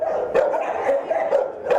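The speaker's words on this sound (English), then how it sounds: "Barking fills the halls of the Humane Society." Dogs barking in the halls of a Humane Society shelter, repeated sharp barks over a steady background of more barking and yips echoing through the space.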